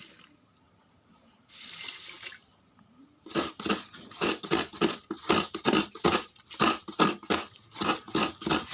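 Water runs in a short burst and then splashes in rapid repeated pulses while mung beans and fenugreek seeds are soaked for a traditional porridge, close and fairly loud without talk.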